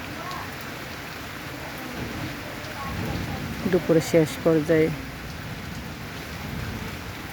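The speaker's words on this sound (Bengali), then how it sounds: "এই গরমের মাঝে হঠাৎ বৃষ্টি নেমে গেছে।" A sudden rain shower falls on a hot day as a soft, steady patter in the background while a person talks briefly over it.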